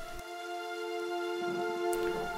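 Rain patters steadily in the Pillars of Eternity video game, a soft continuous hiss beneath sustained musical drone tones, with a brief sharp tick near the end.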